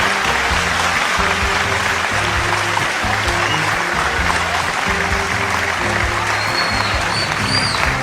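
Audience at a Tahzeeb Hafi Urdu poetry recital claps loudly and continuously, a dense sustained applause over a low hum of the hall.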